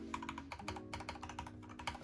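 Brisk typing on a mechanical keyboard, with sharp clacky keystrokes in an uneven rhythm and a low hum underneath.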